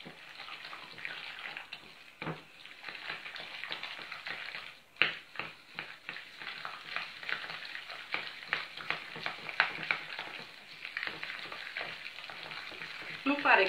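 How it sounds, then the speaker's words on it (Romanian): A spoon stirs a thick Easter pasca filling of cheese, chocolate and raisins in a bowl, giving close, steady scraping and soft wet clicks in quick irregular strokes with no talking. "Acum am să amestec."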